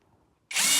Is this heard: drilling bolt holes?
yes